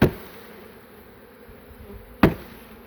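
A steady low hum of honeybees buzzing inside a hive box after being bumped back in, framed by two sharp knocks from the box at the start and near the end.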